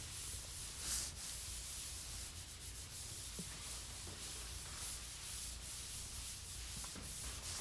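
A sanding block rubs over drywall joint compound, a faint, continuous, gritty scratching with soft rhythmic strokes, close and alone.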